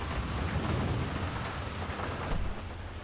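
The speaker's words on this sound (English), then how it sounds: "I'm getting out of the rain." Steady video game rain in GTA 5 Online pours down with a broad hiss and a low rumble underneath, fairly quiet and continuous.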